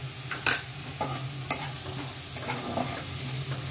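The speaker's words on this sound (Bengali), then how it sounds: "আমি এখন একটু মশলাটা কষিয়ে নেব" Ginger paste and spices fry in oil for a cauliflower dish while being stirred, giving a steady close sizzle broken by several sharp scraping strokes of a spoon against the pan.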